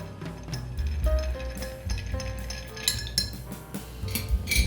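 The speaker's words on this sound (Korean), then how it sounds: "얼음 넣고 칵테일을 스터를 해줬어요" Ice clinks and rattles against a cocktail mixing glass as a drink is stirred, giving a busy run of light, fairly close clinks and taps with no talking.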